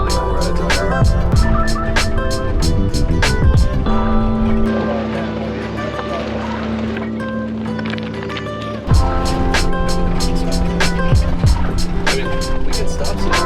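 A transit van rolls over rough Ophir Pass terrain, giving a steady loud rumble with constant rattling and clunking from the vehicle, a brief smoother stretch in the middle, and voices talking inside.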